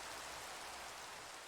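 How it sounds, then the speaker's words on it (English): Rain falling in the video game Minecraft, a steady, faint, uniform hiss of patter with no voices over it. "And it's also raining, so let's sleep away the rain and the night."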